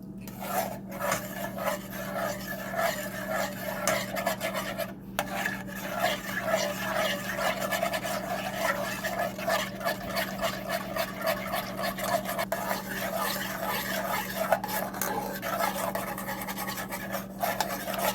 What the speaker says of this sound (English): And so I'm just stirring it up